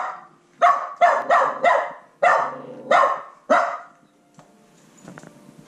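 A big dog barks loudly and close by, giving about eight sharp, deep barks in an uneven run, some doubled, before falling quiet apart from faint rustling.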